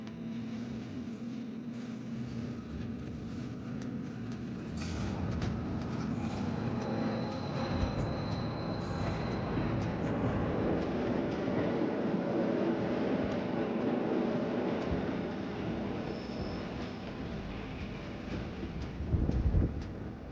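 A northbound train arrives at a Bernina Express crossing meeting in the Swiss mountains, a low, steady rolling rumble with faint squeals and wind, lasting throughout with a brief louder thump near the end.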